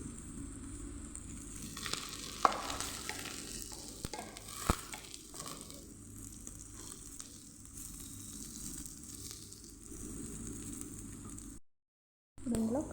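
Curry leaves sizzle and crackle in hot oil for a Telugu bitter gourd fry, a steady frying hiss with scattered pops and stirring scrapes, no talk, cutting out briefly near the end.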